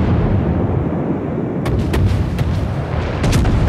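Naval guns boom repeatedly in a World of Warships battle, a ship firing salvos against rocky coastal landscape; several loud sharp reports stand out over a dense, continuous rumble of battle noise.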